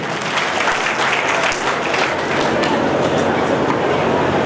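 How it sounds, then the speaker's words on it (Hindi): Loud, dense applause from an audience fills a community award ceremony for the Keer Samaj in Bhilwara, steady clapping throughout at close range with a hint of voices underneath. "जोरदार तालियां उनके लिए।"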